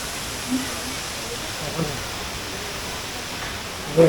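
Water rushes steadily at Jalagamparai waterfall in Thirupathur, a soft even hiss of falling water heard from some distance, with a few faint knocks and a brief louder burst at the end.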